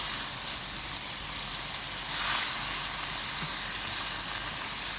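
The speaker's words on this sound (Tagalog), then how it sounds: "Igisa lang natin" Shrimp for ginisang ampalya sauté in a hot pan, giving a steady, soft sizzling hiss with no talking.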